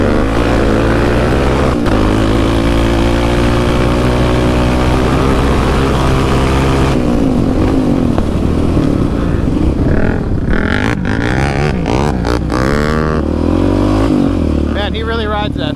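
Yamaha Raptor 700 ATV engine while riding alongside a built Honda TRX450R, a steady loud engine roar that rises and falls with throttle, with wind buffeting and a rider talking over it.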